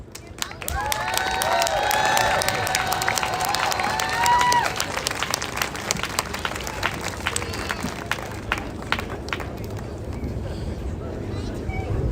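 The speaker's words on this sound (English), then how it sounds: "Another round of warm applause for Kevin" A crowd outdoors at a trans unity rally at the U.S. Capitol claps and cheers in a sustained round of applause, steady and moderately loud, with voices mixed in and fading slowly over the stretch.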